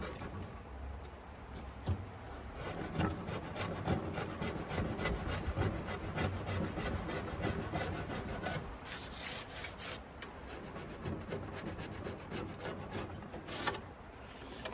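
Old varnish is being sanded off the wooden parts of a Singer treadle sewing machine, making a continuous close rasping, rubbing scrape with quick back-and-forth strokes and a brief brighter, harsher stretch midway.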